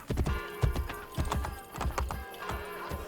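Horse hooves in Assassin's Creed Brotherhood clatter in a quick, uneven galloping rhythm, loud and close, with no talking over them.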